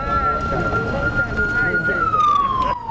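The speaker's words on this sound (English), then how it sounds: "Sirens blaring at full amplitude, alerting residents of this community living near the Volta River of a possible danger" Warning sirens wail at full volume in a community near the Volta River, alerting residents to a possible dam spill, with a sustained steady tone that slides downward near the end.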